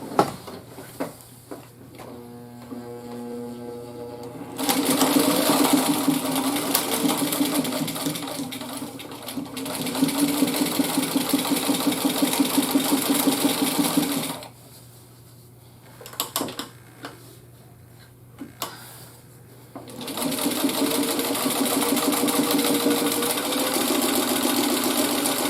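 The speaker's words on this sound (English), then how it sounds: "Okay, so now I've finished sewing the hems on this bag," A sewing machine stitches the hems on a bag in long loud runs of steady mechanical whirring, pausing between seams with handling noises in the gaps, close and with no talk.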